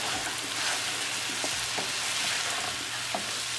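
Taro root and peas sabzi with spices and lemon juice stirred in a pan, a steady close sizzle of frying with soft scraping strokes of a spoon running through the whole stretch.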